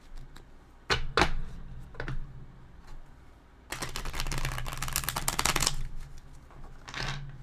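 Tarot cards being shuffled by hand, with a couple of quick riffles early on, then a longer dense burst of slapping and flicking cards, and a final short shuffle near the end, close and fairly quiet.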